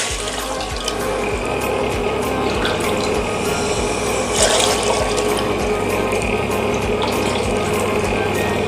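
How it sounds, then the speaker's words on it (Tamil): Steady rush of water running continuously into a pot, a constant bright hiss with a slight swell midway, no talking. "இந்த கப்பில் 3 கப் தண்ணி சேர்க்கணும்."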